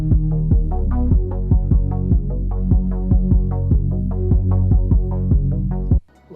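Compressed bass in an 80s pop mix ducks under each kick hit, giving a regular pumping rhythm of punchy low thumps with the bass swelling back between them, loud and alone for about six seconds.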